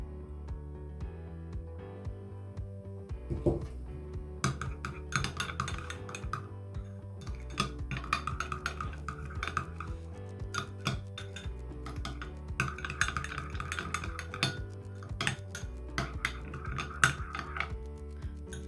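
Mayonnaise sauce being stirred with salt and black pepper in a bowl, a spoon clinking and scraping against the dish in irregular taps and clatters, close and fairly quiet with no talking.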